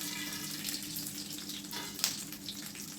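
Garlic and peanuts roast in hot oil in a pan for green chilli thecha, a faint steady sizzle with a small pop near the end.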